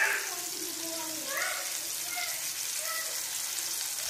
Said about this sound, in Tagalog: Napapay-fry na tayo.